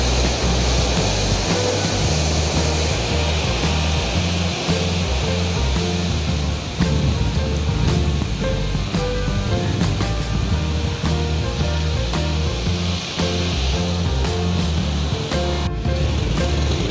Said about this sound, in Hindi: यहाँ पे एक पानी की अपनी आवाज़ है